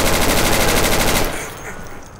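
Rapid automatic gunfire rattles loud and close in the shooter game Insurgency, a dense burst that cuts off after about a second and leaves fading echoes.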